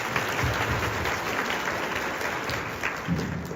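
Applause from a school gathering at a first-year welcome and appointment ceremony, a dense, steady wash of clapping that holds at one level for a few seconds.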